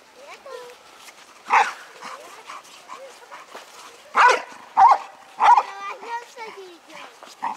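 An American Staffordshire terrier gives several sharp barks and yips between whimpers and whines, close and loud, with people talking around it.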